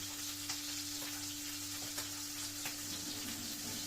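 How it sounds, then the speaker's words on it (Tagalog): Fish fries in hot oil in a pan, giving a steady, close sizzle and crackle with soft scattered pops and no talking. "binalik na natin ang ating isdang piniprito"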